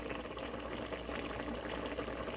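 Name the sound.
Cajun chicken alfredo boiling in one pot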